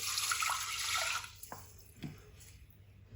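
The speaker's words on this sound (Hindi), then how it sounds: "यहाँ पे अब 1 गिलास पानी का डाल देंगे" Water poured from a glass into a cooking pot, a soft splashing gush that fades into a few scattered drips, faint and close with no talk.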